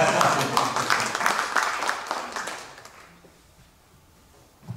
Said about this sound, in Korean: 박수 마음껏 치셔도 됩니다